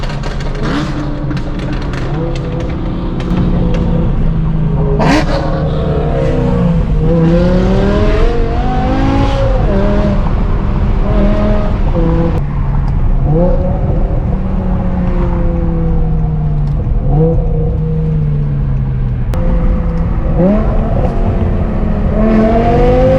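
Straight-piped BMW M5 E60 with its V10 exhaust, loud and close, revving and rising through gears in repeated sweeping pulls with brief lifts between them, sustained throughout with no talk.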